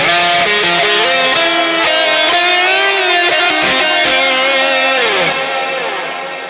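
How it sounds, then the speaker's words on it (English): An electric guitar through a GE200 amp modeler's Church reverb setting rings out sustained, distorted chords drenched in a long, spacious reverb that lets the notes wash together and fade slowly at the end. "Let's do the reverb now. I think the one I was using last time was Church"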